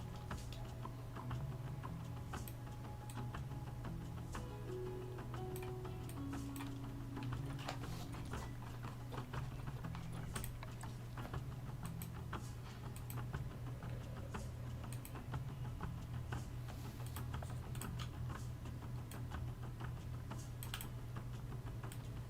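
Rapid, faint mouse and keyboard clicks during computer gameplay, an irregular ticking patter running steadily over a low background hum.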